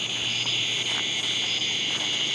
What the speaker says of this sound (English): And here the cicadas singing and getting loud